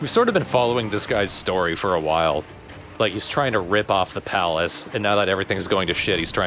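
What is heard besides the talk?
None of the usual background noises is heard.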